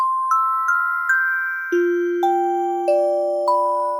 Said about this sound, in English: we're going to type Christmassy tubular bells